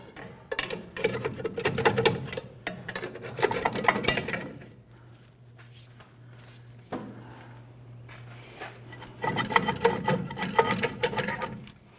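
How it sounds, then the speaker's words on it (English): Steel pry bar working a rusted brake drum off the rear hub of a 1994-2004 Chevrolet S10 pickup, close scraping and grinding metal in bursts with a quiet pause in the middle. "Just using our pry bar, we're gently walking the drum off"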